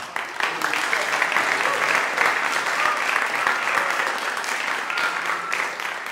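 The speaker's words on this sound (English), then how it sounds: "Give them a round of applause." A workshop audience applauds at a summer jazz symposium, a steady, dense wash of many hands clapping that holds evenly for several seconds with no talk over it.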